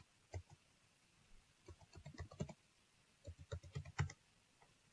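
Someone types on a computer keyboard in short, quiet bursts of clicking keystrokes with pauses between them, close but soft.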